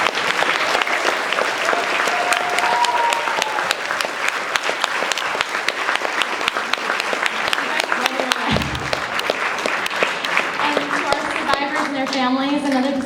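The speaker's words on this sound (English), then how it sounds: "Let's just give another big round of applause to our students." An audience at a witness theater performance gives students a long, loud round of applause, dense clapping throughout, with cheers and voices rising over it and a few vocal tones near the end.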